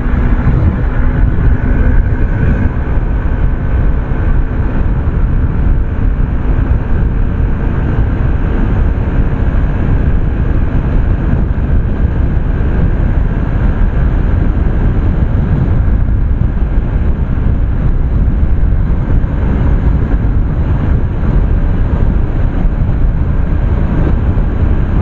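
Stock Yamaha Aerox 155 scooter running flat out toward top speed, a loud, continuous engine drone with heavy wind rush that holds steady for the whole stretch, with no voices.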